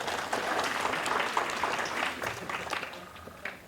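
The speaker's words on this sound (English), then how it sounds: "Excellent, clap for yourself." An audience at a motivational life-story talk claps for itself, a dense, even wash of hands that holds steady for a few seconds without any voices.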